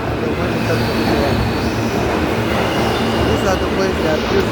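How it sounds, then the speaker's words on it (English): Train rolling along with steady rumble and rattle heard from inside a railway car, continuous and fairly loud, with faint wheel squeal and hiss near the end. "So the train is moving empty,"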